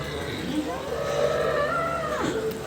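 A Jersey cow moos loudly and close by in one long, drawn-out call with a falling, bending pitch at the end, heard alone on a dairy farm in Sangrur district, Punjab.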